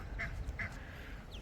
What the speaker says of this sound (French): Il y a plein d'espèces de canards.